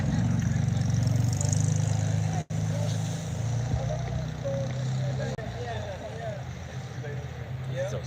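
A car at a Chopped and Dropped 2024 show drives past, its engine rumbling loud and close, with voices talking over it throughout.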